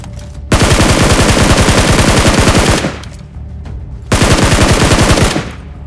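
Automatic gunfire in the BGMI battle royale mobile game, an enemy teammate firing on the player in two long, dense machine-gun bursts separated by a short gap, loud and close with no voices.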